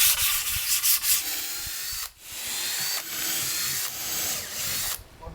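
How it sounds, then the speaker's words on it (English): Close, steady abrasive rasp of sanding along the edge of a wooden campervan kitchen piece, scratchy strokes broken by a short pause midway before the grinding resumes. "that edge there needs sanding a bit"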